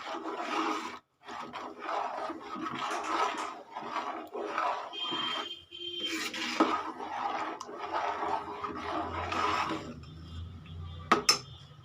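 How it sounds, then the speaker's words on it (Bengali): Vegetable daliya khichuri being stirred in a pot, with steady scraping and rubbing of a spoon against the metal in repeated strokes, a brief pause, then a couple of sharp clinks near the end. "দিয়ে আমি এটাকে নাড়িয়ে দিয়ে বন্ধ করে দেব"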